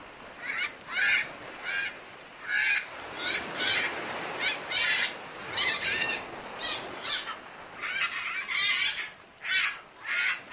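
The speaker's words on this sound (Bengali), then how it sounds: "পাখিগুলো নিজেদের মধ্যে কথা বলছে" Cartoon birds squawk and honk back and forth in short, loud bursts, a rhythmic exchange of goose-like and crow-like calls repeated throughout.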